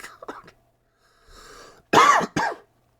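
A person coughs close by: a few light hacks, then two harsh, loud coughs in quick succession with a rasping, throat-clearing quality, with a faint breath in between.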